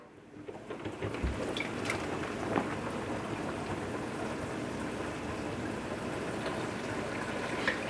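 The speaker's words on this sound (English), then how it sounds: "Now let's go ahead and let out the water." Rinse water draining from a kitchen sink after washing collard greens, a steady close rushing gurgle that holds evenly throughout with a couple of brief knocks near the start.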